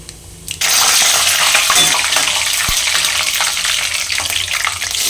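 Mustard seeds and chana dal frying in hot oil for a palya, a loud steady sizzle that starts abruptly after a quiet moment and continues with crackling throughout, no talking.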